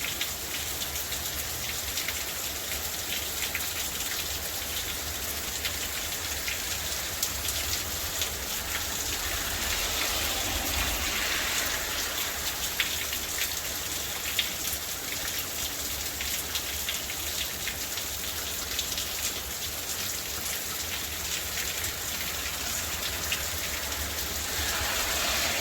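Steady rain falling outdoors, a dense, even hiss of drops on surfaces that continues unbroken at a moderate level throughout, with no voices.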